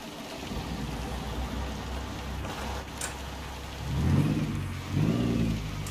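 A Kenworth W900L truck in American Truck Simulator, its diesel engine cranking and catching with two rising rumbles over a steady background hiss.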